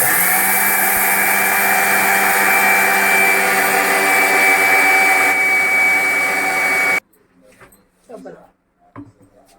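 An electric mixer grinder whirs loudly and steadily while grinding coriander and spices, then cuts off abruptly, leaving quiet handling clatter and faint rustles.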